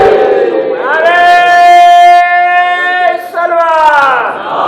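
A crowd at a Shia majlis chants a religious slogan in response, voices rising in a long sustained unison cry that swells, briefly dips, then returns before fading.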